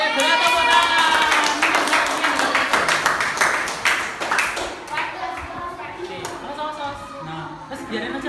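Applause from a fifth-grade class in a classroom, a dense patter of many small hands clapping for several seconds before thinning out, with children's voices chattering over and after it.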